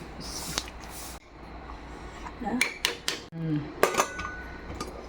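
A pressure cooker lid is shut and the weight set on top, giving a few sharp metallic clinks and clatters close by, with brief bangs spread across a quiet kitchen background and no talking.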